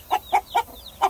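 Chickens clucking in a backyard coop where hens have hatched chicks: four short, fairly loud clucks spaced evenly about a quarter-second apart, close by with no talking.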